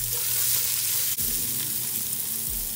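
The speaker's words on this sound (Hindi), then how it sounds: "2 से 3 मिनट इसको भूनते हैं" A medium sliced onion and a tablespoon of cumin fry in a pan with a loud, close, continuous sizzle and a few faint stirring scrapes, and no talking.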